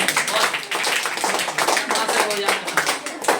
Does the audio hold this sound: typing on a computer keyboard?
no